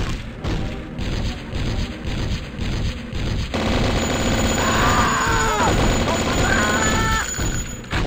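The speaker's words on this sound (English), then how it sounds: "What is that guy shooting at?" Video game gunfire in the shooter Blood comes as rapid repeated shots and bursts over a dense, loud game soundscape, with tonal effects rising and falling later on.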